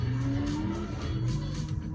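A Forza Motorsport 6 car engine drones steadily with a rising whine, joined by a sharp tire squeal, loud and continuous with no talking.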